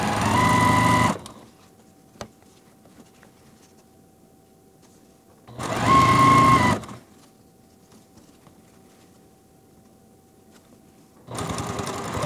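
Sewing machine stitching quilt fabric pieces for a small nine-patch block, three loud rapid whirring bursts of about a second each separated by quiet pauses, with no talking.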